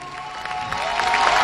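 An audience claps for an award winner at a film festival closing ceremony, a steady wash of applause building slightly over a brief moment, with faint crowd noise.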